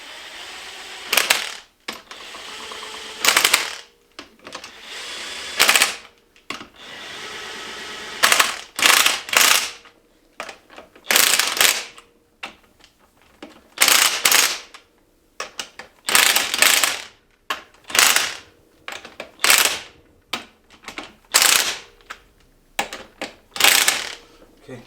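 An air impact gun rattles in a series of loud, close hammering bursts while loosening a stubborn bolt during a DIY all-wheel-drive transmission job, the bursts separated by short pauses and a little quiet talk.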